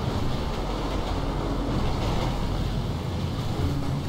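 A train in Grand Theft Auto V rolls along the tracks with a steady, dense rumble and clatter that stays constant and close throughout, with no voices.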